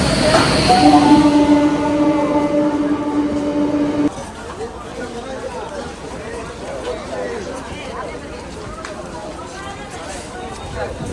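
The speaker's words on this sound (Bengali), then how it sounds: "আমাদের ট্রেন চলে" A train rumbles and screeches as it rolls into Panagarh railway station, a long horn-like tone at first, then steady clatter with a crowd murmuring nearby.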